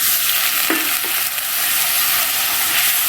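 Spice paste thinned with a splash of water being stirred and fried in a pan for Bengali doi katla fish curry, a steady close sizzle with a few scraping strokes of the spoon throughout.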